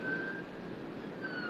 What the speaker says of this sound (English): That was an ambulance, not a fire truck this time.